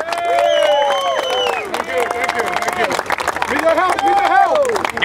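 Audience at a Bay Ridge, New York City political rally applauding loudly, with dense clapping, cheers and whistles mixed with crowd chatter and a voice over the top.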